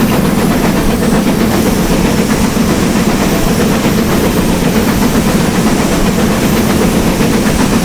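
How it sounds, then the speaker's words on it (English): A GWR 7800 steam locomotive hauls a nine-coach train up a bank, a loud, dense, continuous roar of working engine and rolling wheels heard from close by, with no voices. "A full coach load, a 9-coach train"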